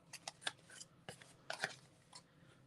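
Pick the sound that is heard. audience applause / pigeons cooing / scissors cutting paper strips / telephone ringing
scissors cutting paper strips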